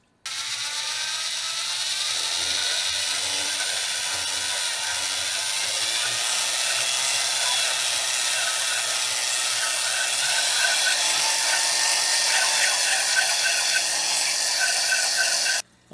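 A cutting tool grinds steadily into a motor cylinder being sleeved, a bright, whirring metallic scrape with a ratcheting chatter, continuous and close for the full stretch before stopping abruptly.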